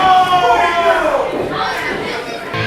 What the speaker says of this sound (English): Even fans that were pulling for Matt Vertigo, cheering for the diligent one.